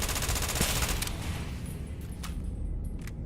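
Rapid automatic gunfire from a weapon in Starfield, a dense continuous burst of shots that thins out to a few scattered cracks.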